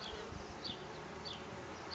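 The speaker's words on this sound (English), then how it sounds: "You see they're swarming a little bit, but they're not stinging me and not bothering." A steady insect buzz fills the air, the hum of many honeybees swarming together at moderate distance, continuous with no talking.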